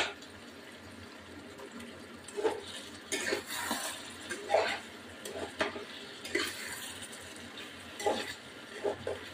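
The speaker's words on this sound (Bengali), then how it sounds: "এবার একটু নাড়া দেবো।" Vetki fish and potato curry stirred in a pot with a spoon, producing intermittent wet scraping and clinking pulses over a soft simmer, with no one speaking.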